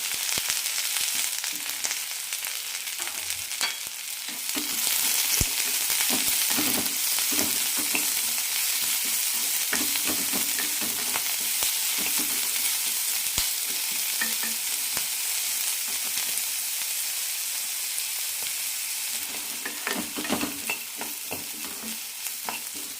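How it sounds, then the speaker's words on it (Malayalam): Carrots with coriander leaves and small tomato pieces frying in a pan, a continuous close sizzle with frequent scraping and clicking stirs throughout, no talking. "ഇതിലേക്ക് ക്യാരറ്റ് ഇടാം കൂടെ തന്നെ കുറച്ച് മല്ലിയിലയും ചെറിയ പീസ് തക്കാളിയും"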